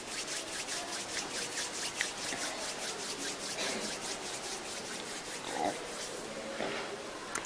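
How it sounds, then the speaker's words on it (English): Someone rubs the palms of their hands together during a guided relaxation practice. The soft, rhythmic swishing strokes repeat quickly and evenly, close and quiet. "gently rub the palms of your hands against each other"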